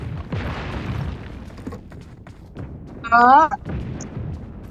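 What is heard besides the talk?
gunfire and explosions in video game BGMI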